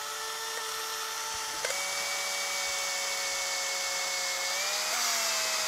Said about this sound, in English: let's just do a bit of drilling now